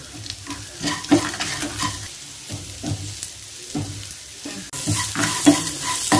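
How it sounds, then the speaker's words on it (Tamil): Onions sautéing in a pan with salt and asafoetida for a veld grape chutney, stirred steadily with a spoon over a constant sizzle that swells louder near the end, with no voices. "வெங்காயம் நல்லா வதங்கிடுச்சு."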